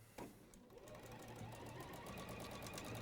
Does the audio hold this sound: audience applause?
no